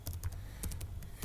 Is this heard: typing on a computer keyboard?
yes